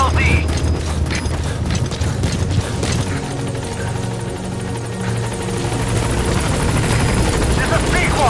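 In Metal Gear Solid V: The Phantom Pain, a support helicopter comes in to the landing zone with a loud, close rotor chop and mechanical whine that holds steady throughout, while a radio voice talks over it.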